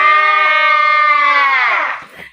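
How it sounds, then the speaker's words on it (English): Sheep bleating in a single long, loud, wavering baa near the microphone that tails off at the end, heard alone. "The sheep says,"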